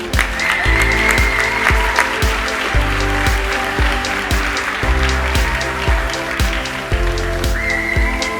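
Sustained, dense clapping from an awards audience honouring Forty Under 40 recipients, loud and continuous throughout, with steady music beneath it.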